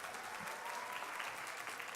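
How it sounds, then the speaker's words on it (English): At an awards ceremony honoring community achievers, the audience claps steadily for the honorees, a dense, even wash of applause that sounds distant and fairly quiet. "Can I have a round of applause for all the honorees today"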